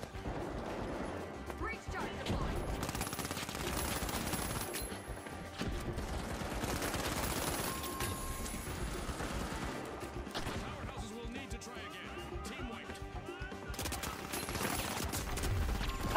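Rapid gunfire bursts and explosive cracks from the shooter game The Finals keep going throughout, loud and dense, with short pauses between volleys and game sounds mixed in.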